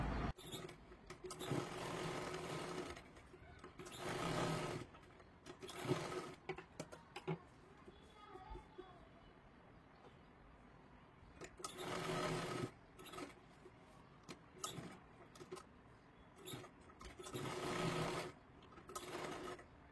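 A sewing machine stitches tucks on a size-34 katori blouse, running in several close, loud bursts of rapid stitching separated by short pauses.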